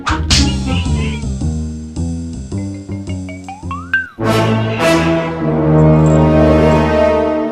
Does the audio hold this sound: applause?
no